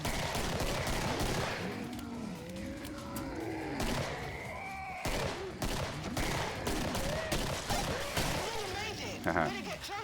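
Rapid gunfire bursts crackle through a first-person shooter video game, a steady barrage of shots and impacts under constant game noise, with a player talking over it.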